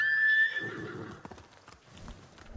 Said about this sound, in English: Where's my horse when I need him?